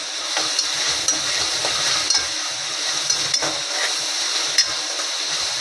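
Onion fries in a pan as broccoli and cashew cook, giving a continuous bright sizzling hiss with occasional small pops and faint utensil ticks, steady and close.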